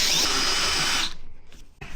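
A power drill fitted with a whisk attachment whirs loudly while mixing filler for about a second, then cuts off, leaving a few faint knocks and clatters.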